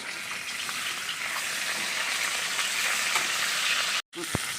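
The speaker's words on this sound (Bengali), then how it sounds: "এখন আমি মাথাটাকে ভেজে নেব।" A hilsa fish head frying in mustard oil in a kadai, a loud, steady crackling sizzle close by, ending in a brief gap and a sharp clink of a utensil.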